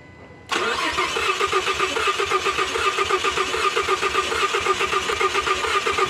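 A car engine cranks steadily on the starter during a relative compression test, a loud rhythmic churning of even, rapid pulses that continues for several seconds without firing up, with no talking.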